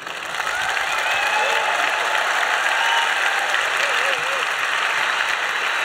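A science slam crowd gives the speaker a loud, continuous ovation, dense clapping swelling in after a moment and holding steady, with scattered whoops and cheers riding on top.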